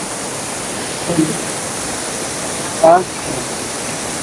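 Steady broadband rush of the Calinawan River in Tanay, Rizal, flowing over rocks, filling the whole clip as a constant nearby wash, with a brief voice breaking in once over it.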